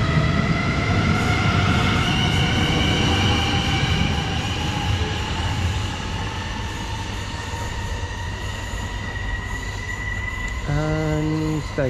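A South Western Railway Class 450 electric train pulls away from a station in Hampshire, a steady loud rumble with a rising motor whine and rail noise, ending in a series of beeping tones.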